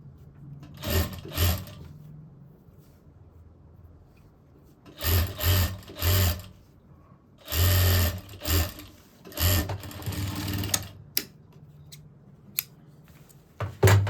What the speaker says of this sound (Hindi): यहाँ पे बिल्कुल किनारे पे ये कपड़ा रख के हमें सिलाई करनी है किनारे की